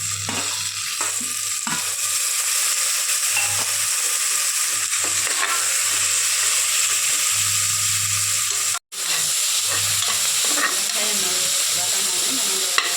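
Chopped tomatoes sauté with browned onions in a pan for a simple bachelor chicken biryani, giving a steady, close sizzling hiss with stirring scrapes, a low background hum and a brief cutout midway.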